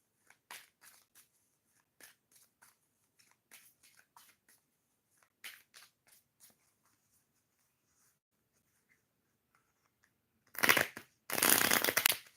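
Tarot cards tapped and slid in a series of soft, scattered clicks, followed near the end by two loud, rapid riffling bursts of shuffling, close and quiet between.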